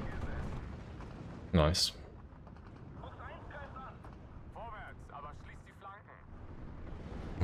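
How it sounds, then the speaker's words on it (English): In the Steel Division 2 strategy game, an IL-2 attack plane strafes a Studebaker truck: one sharp, loud burst of gunfire and impact, followed by quieter battlefield rumble under brief speech. "If I can strafe the Studebaker there, that'll be good."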